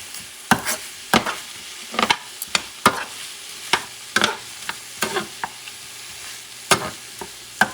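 A spoon stirs rice in a sizzling paella pan for a Spanish cod paella, with repeated scraping strokes at an uneven rhythm over a soft frying hiss, close and clear, with no talking.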